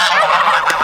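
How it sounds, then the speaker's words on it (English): Geese honk loudly and close by on a goat farm, a short burst of harsh, nasal calls with no talking. "there's the noise of geese"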